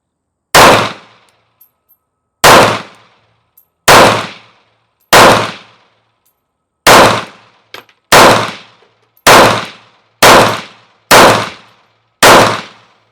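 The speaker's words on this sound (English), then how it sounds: "So let's just get a few rounds down. We have 10 rounds in it." Ten sharp pistol shots from a Smith & Wesson Bodyguard 2.0 .380 handgun, fired at a steady moderate pace, each loud crack decaying quickly with clear gaps between, no talking.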